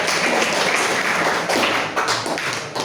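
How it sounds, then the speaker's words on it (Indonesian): Applause from a classroom audience during a teacher-training session, a dense, steady patter of clapping hands that stays loud throughout and eases slightly near the end. "Oke, tepuk tangan untuk jawabannya"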